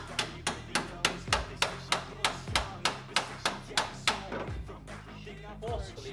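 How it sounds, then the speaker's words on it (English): A hammer beating a body panel on a Peugeot 205 rally car in a workshop, with a fast, even series of sharp metallic blows that slows and thins toward the end. "So I'm back with the hammer now."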